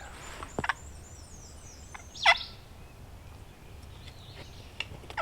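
A wild turkey gobbles in the Arkansas morning on opening day of turkey season, one loud gobble rising out of quiet woods with a few fainter bird calls scattered around it at a moderate distance.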